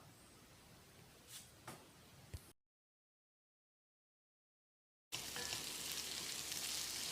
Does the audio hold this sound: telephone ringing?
no